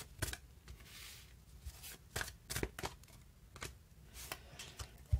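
Tarot cards being shuffled by hand, a soft close series of riffling bursts and taps in an irregular rhythm, fairly quiet with no talking.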